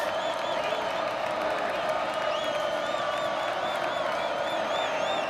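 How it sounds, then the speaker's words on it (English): The remaining stadium crowd at a Jacksonville State vs UCF college football game makes a steady roar with whoops and whistles rising through it, constant and broad, under a commentator's voice. "The crowd that's remained trying to make some noise"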